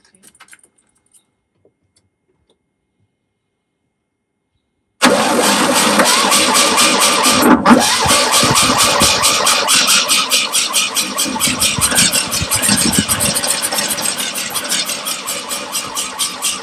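After a few seconds of near silence and faint clicks, a Fiat 126 engine with a newly fixed carburettor cranks and catches, then settles into a loud, steady, close idle that runs to the end.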